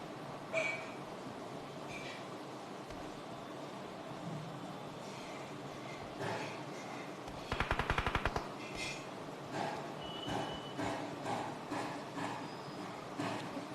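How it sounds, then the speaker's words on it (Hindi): Gunfire in the mobile game PUBG Mobile on the Livik map, a rapid burst of about a dozen automatic shots, followed by scattered single shots over a constant game background hum. "उधर से आई मेरे को गन फायर"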